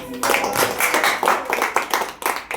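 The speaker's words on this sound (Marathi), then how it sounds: "आणि सर्वांच्याच स्वागतासाठी जोरदार टाळ्या वाजवूया" An audience claps hard to welcome guests at a gathering, a dense burst of many hands that swells and dips in waves, loud and close, with no voices over it.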